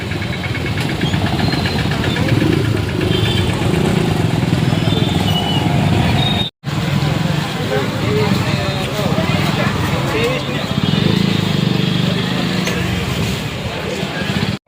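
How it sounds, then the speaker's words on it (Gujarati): Busy street noise in Botad, Gujarat, with engines rumbling and motorcycles passing close by, loud and continuous, with voices talking over the traffic. "જોવો બોટાદની ટ્રાફિક તો જોવો"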